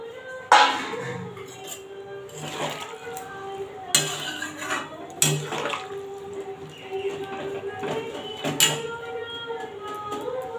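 Pointed gourd pieces dropped into a pan of potatoes for a Bengali vegetarian curry, giving several sharp clattering clinks and scrapes of metal on metal over a low steady kitchen hiss.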